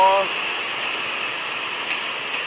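Floodwater pouring across a road in Laos, a steady broadband rush of moving water that holds constant throughout, with a brief voice at the very start.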